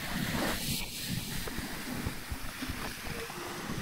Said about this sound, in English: Wind's behind us, about 25 knots, and we're doing about 8 knots through the water.